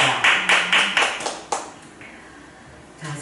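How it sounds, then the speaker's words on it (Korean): Church congregation clapping in a sanctuary, a short burst of rhythmic hand claps in a few loud, roomy bursts that quickly fade away, followed by a quieter pause. "우리 하나님 영광의 박수 칩니다."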